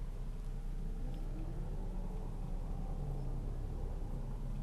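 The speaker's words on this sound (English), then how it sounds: "That truck sounded a lot louder than what it was actually. I thought the truck was accelerating, but it really wasn't. It's just the tires." A truck passes on the road with loud tire roar and no real acceleration, a steady broadband rumble heard from inside a car, constant and moderately loud with no talking.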